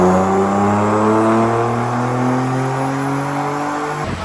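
A Jeep Trackhawk on a dyno holds a loud, steady engine roar at close range, its pitch slowly sagging before it abruptly drops off near the end.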